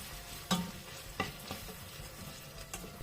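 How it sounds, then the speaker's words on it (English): Ground crayfish stirred into a simmering okro soup sauce with fish and seafood: a few soft spoon scrapes spaced through a quiet, low sizzle, with no talking. "I'm going to add my grounded crayfish and continue to stir"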